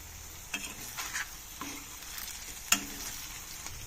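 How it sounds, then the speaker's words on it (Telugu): Brinjals fry in oil beside a masala paste for a stuffed brinjal curry. A steady close sizzle runs throughout, broken by a few stirring knocks and one sharp utensil clink. "కొద్దిగా ఈ పేస్ట్ పక్కకని మధ్యలో వంకాయలు కొద్దిగా ఫ్రై చేసుకోవాలి."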